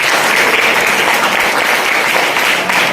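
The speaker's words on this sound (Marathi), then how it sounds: "त्यासाठी जोरदार टाळ्या होऊन द्या" Dense, loud audience applause at a Shri Saibaba College Shirdi function, steady clapping from many hands filling the hall for a few seconds.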